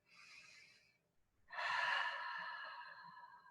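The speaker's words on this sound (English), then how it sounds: "Then you take a breath" A person breathes in twice, a short soft breath then a longer, fuller inhalation, close and quiet against a near-silent background.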